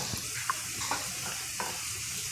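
Onions with ginger-garlic paste frying in a pan for a cashew curry, a soft continuous sizzle with a few light spatula taps and stirring scrapes.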